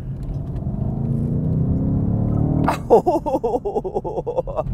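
A BMW 850i on the move, its engine droning low and steady before swelling into a sharp rev with rapid, pulsing exhaust bursts, close and loud.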